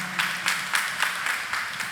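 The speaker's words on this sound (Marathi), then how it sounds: "आपण सर्वजण टाळ्या वाजू, कदाचित ते असतील नसतील तरीसुद्धा टाळ्या वाजून त्यांचे आभार मानूया" Church congregation clapping in thanks after a Veronica's Song performance at a Passo service, a sparse, rhythmic burst of about seven evenly spaced claps, moderately close, with no talk.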